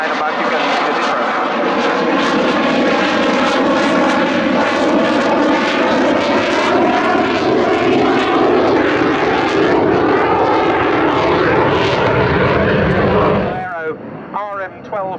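Jet aircraft powered by an RM12 turbofan making a slow speed pass at an air show at Yeovilton, a loud sustained roar that shifts in pitch as it passes, then fades, with commentary voices over it.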